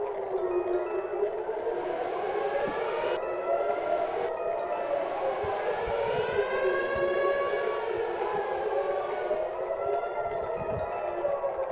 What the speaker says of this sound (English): And the sirens are blaring.